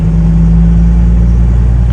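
A 1997 Kenworth T600 truck's diesel engine runs loud and close, a steady deep rumbling drone as it is run up, with no voices.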